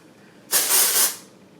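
A single sustained aerosol dry shampoo spray hiss on hair twists, close and loud, lasting about half a second before cutting off.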